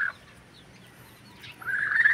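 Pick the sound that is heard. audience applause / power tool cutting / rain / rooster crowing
rooster crowing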